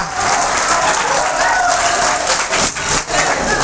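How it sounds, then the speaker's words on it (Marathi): Audience at a job fair seminar applauding, dense sustained clapping from many hands filling the room loudly and evenly for several seconds. "यासाठी तुम्हासाठी टाळ्या"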